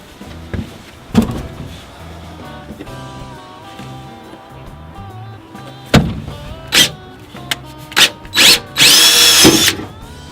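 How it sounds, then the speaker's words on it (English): A power drill whines in several short bursts, punching through a metal rib of a truck tool box riser with rising pitch, the last burst longest and loudest, with clanks between. "we don't want this this drill bit wobbling"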